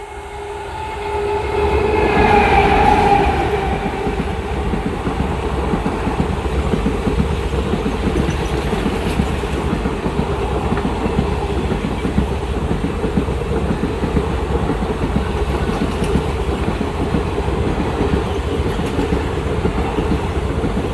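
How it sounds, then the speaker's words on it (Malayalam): The Matsyagandha Express, led by a WDG5 diesel locomotive, rumbles past a level crossing on the Konkan line, swelling to a loud roar and then settling into a long, steady clatter of wagons rolling by close at hand. "മത്സ്യഗന്ധ എക്സ്പ്രസ് ഇതിലൂടെ ക്രോസ് ചെയ്യുമെന്ന് നമുക്ക് പ്രതീക്ഷിക്കാം"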